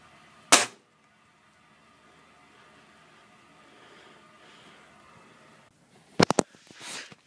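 A Gamo Whisper air rifle fires outdoors in a snowy Utah backyard in winter: one sharp crack, then after a long quiet stretch a quick cluster of further sharp reports, close and loud.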